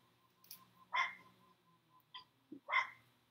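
A neighbor's dog barks a few times at a distance, sharp separate yaps with gaps between them, faint against quiet surroundings, with no talk.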